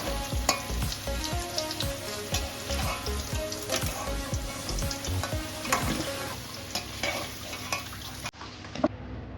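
Partly cooked potato pieces frying in hot oil in a pan, stirred often: a steady close sizzle with repeated scraping and clinking stirs throughout, cutting off abruptly near the end, no voices.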